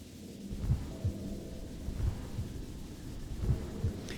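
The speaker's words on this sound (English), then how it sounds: "Again, more heartbeats in the game." A low, muffled heartbeat effect from the video game Hollow Knight: Silksong, with soft paired thumps recurring at a slow, uneven pace under a dark, rumbling ambient bed.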